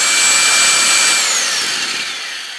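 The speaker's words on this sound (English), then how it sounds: "Now, you heard an impact for what? a second and a half at the most, and then it was off." Kobalt 1/2-inch impact wrench taking a 21 mm lug nut off a Nissan 350, a short loud whirring burst close by that winds down over about two seconds, with no talk.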